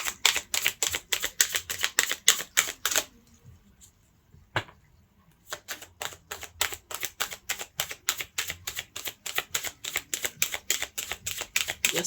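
Tarot reading cards being shuffled, giving rapid, evenly spaced crisp clicking riffles close up, with a brief pause midway before the steady riffling resumes.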